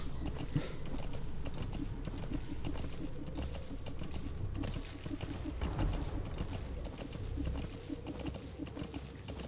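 Horse hooves clip-clopping in the video game Metal Gear Solid 5: The Phantom Pain, a steady rhythmic trot close by over a busy background bed, with faint bird coos.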